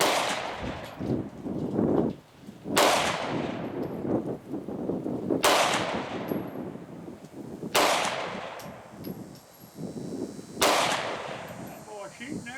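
Gunshots at an outdoor shooting range, five loud, sharp, close reports spaced a couple of seconds apart, each with a short ringing tail over low background noise and murmuring voices.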